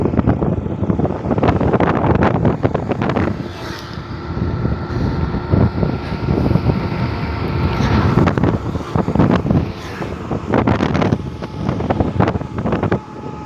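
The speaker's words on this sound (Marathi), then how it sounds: "आणि एवढी हवा सुटली, आवाज पण नसेल येत" Strong wind roars and buffets the microphone behind a row of coconut trees, loud and gusty throughout with rising and falling surges and no voices.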